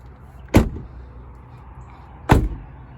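A Nissan Murano car door is shut twice, about two seconds apart, each a near, hollow, tinny thud over quiet background with no talk.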